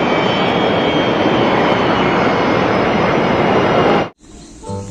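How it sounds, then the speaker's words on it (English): A toy aeroplane gives a loud, steady engine-like roar that holds evenly for about four seconds, then cuts off abruptly and leaves only faint background noise. "Good aeroplane."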